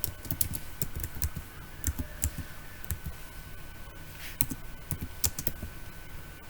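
Someone types on a computer keyboard with quick, uneven bursts of close clicking keystrokes and short pauses, quiet and with no talk over it.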